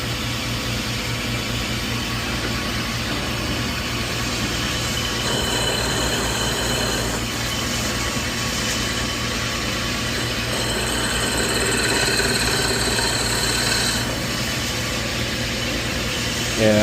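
A drill press bores into a bowling ball, giving a steady mechanical whir and hum with shifting grinding tones over a constant motor drone, continuous and fairly loud without speech.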